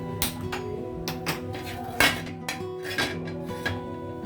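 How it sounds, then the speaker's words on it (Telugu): A metal kadai pan is set down on a kitchen stove with a series of sharp metallic clanks and knocks, one louder strike standing out among several lighter ones. "స్టవ్ ఆన్ చేసి కడాయి పెట్టాను"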